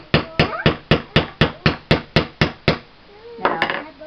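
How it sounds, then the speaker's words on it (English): A hammer drives a metal punch through leather to make scale mail armor, giving about ten sharp, loud, evenly spaced strikes at a steady rhythm before pausing, then one more hit followed by a brief voice. "punching holes into your leather armor"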